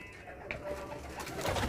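A soft, low coo from a female pigeon rises and falls nearby over a brief moment, against faint background noise.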